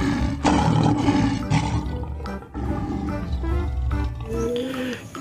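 A toy lion lets out a loud, sustained roar of about five seconds, with one short break partway through, playing up close beside a pile of muddy toy vehicles.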